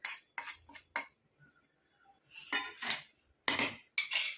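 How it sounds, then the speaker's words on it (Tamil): Powdered ingredients, including amla powder, for a homemade hair dye are spooned into a mixer jar, with short scraping and clinking taps of spoon on jar coming in bursts, separated by near-silent pauses. "இதை வந்து நம்ம மிக்ஸி ஜாரில் வந்து ஆட் பண்ணிக்கலாம்."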